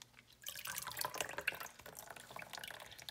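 Water is poured onto a Phalaenopsis orchid potted in sphagnum moss, giving a close, continuous splashing and trickling with small drips, fairly quiet and heard alone.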